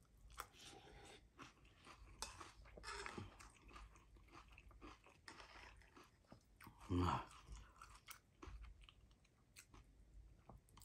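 Cereal chewed close up in a breakfast bowl setting, soft crunching and mouth sounds repeating irregularly, quiet overall, with one louder thump partway through.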